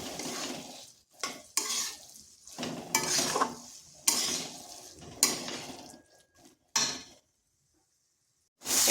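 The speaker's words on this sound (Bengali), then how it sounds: "এবার আলুটা কপির সাথে ভালো করে মিশিয়ে নিচ্ছি।" Mashed boiled potato being stirred into cooked cabbage in a pan, a loose series of scraping, spatula-on-pan strokes with light sizzling, close and fairly soft, pausing briefly toward the end.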